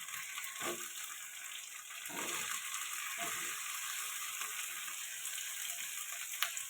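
Ginger paste, garlic paste and chopped tomato fry in oil for a spicy fish curry, a steady bright sizzle and hiss running throughout at moderate, even loudness.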